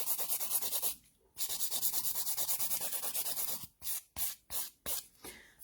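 A 180-grit nail file rubbing back and forth over acrylic nails in close, rapid scratchy strokes, first a steady run and then a few separate short passes.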